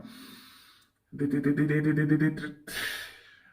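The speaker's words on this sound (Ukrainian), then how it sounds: "Давайте вдих." A child takes a deep, audible inhale during a breathing articulation exercise, a long sustained breath followed by a second shorter one, close to the microphone.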